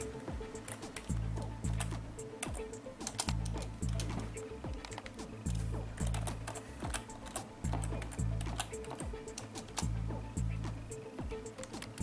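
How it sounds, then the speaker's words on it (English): A computer keyboard is typed on with one hand in a steady stream of close clicks and taps, under a faint repeating background pattern. "It's quite difficult to type with one hand."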